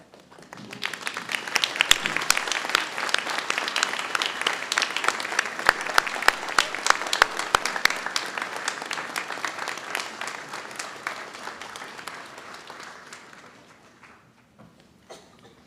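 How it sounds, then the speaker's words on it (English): Applause from a standing crowd of medical students and families at a white coat ceremony, building quickly into loud, sustained clapping with distinct sharp claps, then thinning and fading out near the end. "I'd like for the entire class of 2029 to stand and applaud those around you who've helped make this day possible for you."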